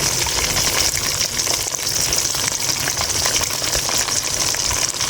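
Stingray fish chilli frying in hot oil gives a steady, loud, bright sizzle that carries on without a break and has no voices over it.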